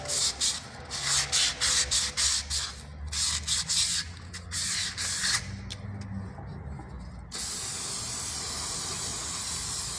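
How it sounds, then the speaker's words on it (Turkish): Fine sandpaper rubs a scooter's transmission part in quick rhythmic back-and-forth strokes, close and crisp, followed by a steadier continuous hiss. "ince bir zımpara vuruyoruz."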